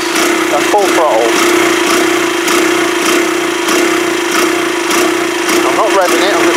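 A Yamaha YBR 125 motorcycle engine held at full throttle, a loud, steady drone with an uneven pulse, while someone talks over it.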